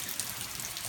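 Heavy rain pours down in a steady, dense hiss during flooding, a continuous close wash with no voices.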